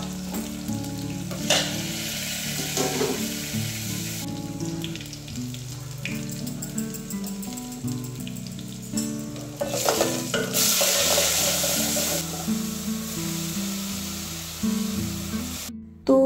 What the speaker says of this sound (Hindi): अभी मैं लौकी की सब्ज़ी फ्राई कर रही हूँ।